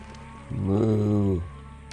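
A single low, drawn-out moo from cattle in the 1999 city-building game Pharaoh swells for about a second over a quiet background hum, then fades.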